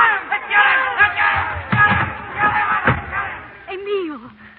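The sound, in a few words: angry mob shouting and chasing Zola, radio drama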